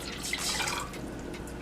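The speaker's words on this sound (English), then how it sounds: "you're going to need 750 ml of water, and we're going to throw that or pour that into our pot" Water poured into a cooking pot for a homemade weight-loss drink, a steady close trickle and splash with no talk.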